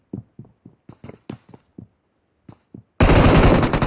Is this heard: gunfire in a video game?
yes